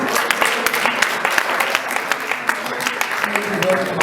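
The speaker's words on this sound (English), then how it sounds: "Can those municipal officials stand up so that we give them also a round of applause, please?" At a municipal sports gala awards event, the audience claps for local officials, a sustained crackle of many hands at moderate loudness, with faint voices underneath.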